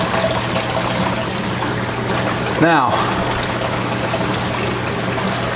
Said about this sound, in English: We know we're pushing a lot of water now